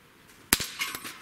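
A single sharp crack from a Barra Schofield .22 caliber pellet pistol, followed by a brief clink of the pellet striking a target, short and fairly close.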